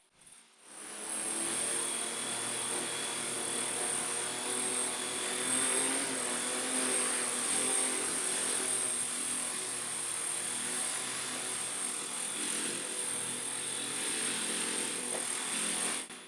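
Rotors of a model V-22 Osprey in flight, a continuous high-pitched electric whir with a steady buzzing hum, sustained and even from start to finish.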